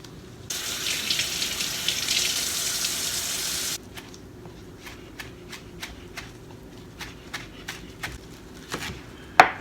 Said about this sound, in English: I'm gonna chop them up